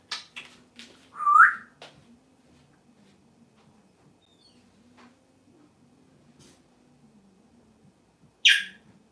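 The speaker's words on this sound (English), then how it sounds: "it's my parrot" A pet parrot gives a few short, bright whistles up close, one rising whistle early on and another at the very end, with quiet room sound and faint ticks in between.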